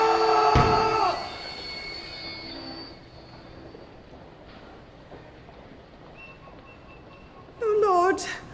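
A train in a radio drama rushes past with a loud rumbling roar up front that fades away, then a sharp squeal of wheels bursts in near the end, with voices around it.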